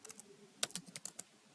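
Someone types a command on a computer keyboard: a faint, quick run of about eight to ten light key clicks, close by and without talk.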